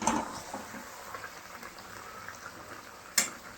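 Jackfruit curry simmers in water in a wok, a faint continuous bubbling with light sizzle and a couple of louder clinks or splashes near the end, and no talk.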